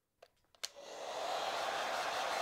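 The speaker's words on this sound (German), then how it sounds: "das ist aber mein Föhn" A few soft clicks and bumps, then a hair dryer switches on and blows with a steady, loud whooshing roar.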